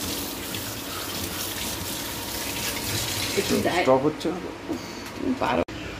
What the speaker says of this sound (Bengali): আগে তো মাছগুলো ধুয়ে তুলি চলো